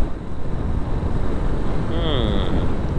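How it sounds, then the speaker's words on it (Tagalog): Strong wind buffets the microphone in a constant loud roar, with a brief higher whine partway through. "iba yung lakas ng hangin ngayon"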